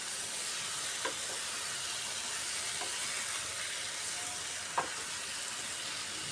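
A potato and flat bean curry masala sautés in a pan on a medium gas flame, giving a steady broad sizzle with a few faint scraping stirs, close and continuous.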